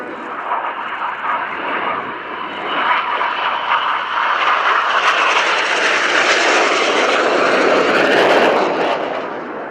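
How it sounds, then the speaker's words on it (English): Display jets flying a barrel roll at the RIAT Fairford airshow, a loud rushing jet roar that builds, holds and fades slightly as the formation passes overhead, with no voices. "as Red 1 leads the aircraft in the first barrel roll"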